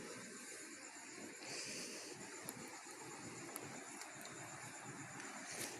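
Strong storm wind roars steadily as a broad, dense hiss with faint gusting swells and a few brief knocks, continuous throughout with no voices.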